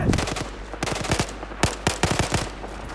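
Machine gun fire in the video game Battlefield 4, rapid bursts of close, loud gunshots in short volleys with brief gaps between them.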